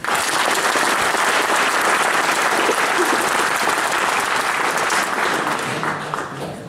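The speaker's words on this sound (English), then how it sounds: "give him an applause" An audience at a stage event claps steadily for several seconds, a dense, loud wash of applause that eases slightly toward the end.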